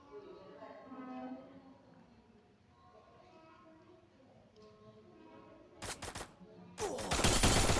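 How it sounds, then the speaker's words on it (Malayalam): Bursts of gunfire in the mobile battle-royale game Free Fire Max, two loud close volleys near the end, the second sustained and rapid, after a stretch of quieter game ambience and speech. "നമ്മൾ വെടിവെച്ചുകൊണ്ടിരിക്കുകയാണ്."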